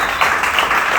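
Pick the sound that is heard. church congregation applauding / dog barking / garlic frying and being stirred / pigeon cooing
church congregation applauding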